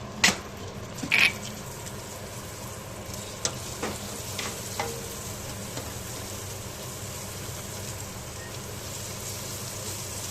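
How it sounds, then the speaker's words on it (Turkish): Butter is stirred quickly into a hot caramel mixture in a pot on the stove, giving a constant soft sizzle with a few sharp clinks and scrapes of the spoon near the start. "Şimdi tereyağını ilave edip hızlıca karıştıracağız."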